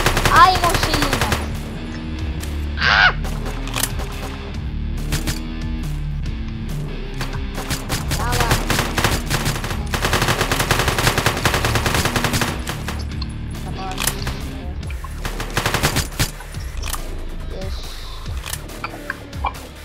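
Rapid bursts of automatic gunfire in a shooting video game, loud and dense over several seconds with repeated volleys, mixed with game effects and players talking excitedly in Finnish.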